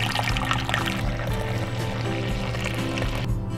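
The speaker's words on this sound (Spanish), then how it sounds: "En un tazón grande voy a colocar 6 tazas de leche bien caliente." Six cups of very hot milk poured into a large bowl make a continuous close splashing pour, steady and fairly loud, with a low hum underneath throughout.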